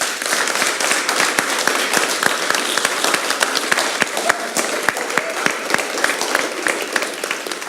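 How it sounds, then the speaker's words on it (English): Sustained, dense applause from an audience at a college Pride club Q&A panel event, many hands clapping steadily and fairly loud throughout, with some sharper nearby claps standing out. "give these people a round of applause"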